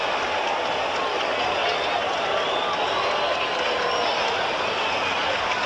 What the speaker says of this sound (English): One of the few times the Mets fans have had something to cheer about.